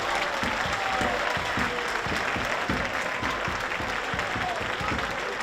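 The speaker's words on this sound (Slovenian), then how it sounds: "en aplavz" A football crowd in the stands applauds a substituted player with steady, dense clapping that carries on throughout, while a commentator's voice runs underneath.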